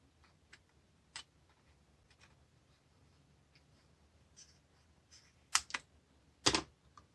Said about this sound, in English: I'm going to hold the acetate and trim off the corners.